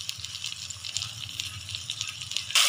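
Tomato and green chili paste frying in a pan, giving a steady soft sizzle and wet bubbling that lasts throughout at moderate loudness, with a brief louder hiss burst at the end.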